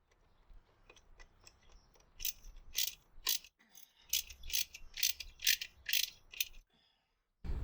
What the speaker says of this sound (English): Grab your screwdriver and your 7/16 socket and snug them up just to hold them in place.